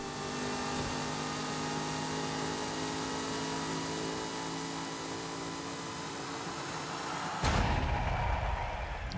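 A race car engine in Forza Horizon 5 drones loud and steady with a strong harmonic whine, then cuts sharply into a rougher, fresh surge near the end, as at a launch.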